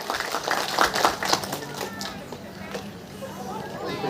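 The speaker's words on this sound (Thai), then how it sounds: "ขอเสียงปรบมือให้กับการแสดงของนักเรียนโรงเรียนผู้สูงอายุตำบลตาเบาดังๆอีกครั้งหนึ่งครับ" Audience claps for a performance by elderly students of a local senior school in Thailand, a loose, moderately loud patter of applause that thins out under background voices and room noise.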